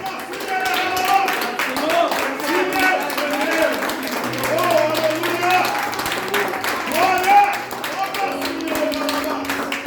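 A church congregation at a family service claps along rhythmically, sharp hand claps that run under a preacher's continuous talk and singing, with brief organ-like tones.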